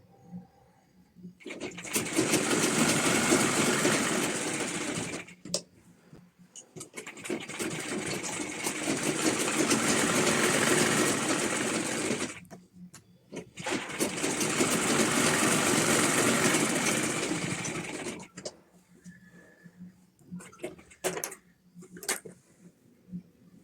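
A sewing machine stitches a blouse being altered at home, running in three long steady bursts of several seconds each with brief pauses between, fairly loud and close, with no talking.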